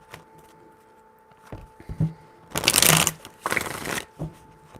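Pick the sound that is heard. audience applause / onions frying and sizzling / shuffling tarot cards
shuffling tarot cards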